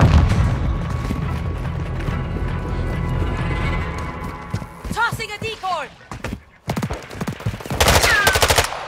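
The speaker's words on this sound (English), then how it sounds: "Throwing Semtex." A Semtex grenade blast in Call of Duty Modern Warfare 2 multiplayer on the Showdown map, heavy booms and gunfire bursts amid chaotic combat, with radio-style voices calling out over the action.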